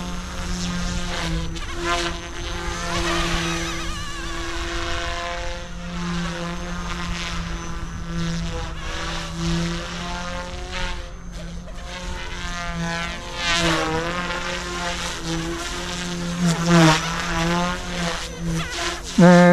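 GOOSKY S2 RC helicopter in flight, a constant high whining buzz of rotor and motor that rises and falls in pitch as it manoeuvres, fairly near and continuous.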